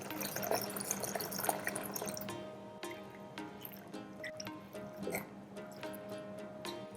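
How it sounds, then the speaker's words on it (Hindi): Water is poured into lemon rasam in a cooking pot, a soft splashing fill at first that gives way to scattered drips and clinks, faint and close. "अच्छे से मिक्स करने के बाद हम इसके अंदर डालेंगे खूब सारा पानी"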